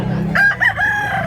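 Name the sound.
rooster crowing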